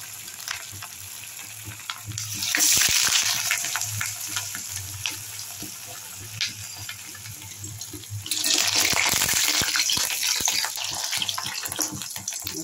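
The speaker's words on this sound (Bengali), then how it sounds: "এগুলোকে আমি এখন সাদা তেলে ভাজবো" Double-coated mixed vegetables fry in hot white oil, giving a close, steady sizzle and bubbling crackle that swells louder partway through and stays dense, with faint clinks of stirring.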